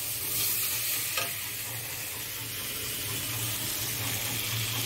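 Leafy taro greens with green chillies sizzling and frying in a pan while being stirred, a steady close crackle with a single brief clink partway through, no talk.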